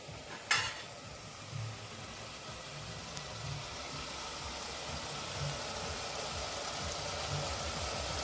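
A pan sizzles steadily while jackfruit curry cooks, a constant hiss with a sharp clink near the start and soft intermittent stirring thumps underneath.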